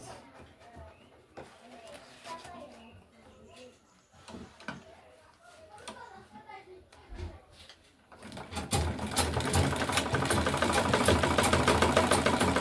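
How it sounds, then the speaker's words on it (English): A sewing machine stitching a tote bag starts after quiet handling and faint talk, then runs as a loud, steady, rapid mechanical whir for the last few seconds. "So we're going to sew it."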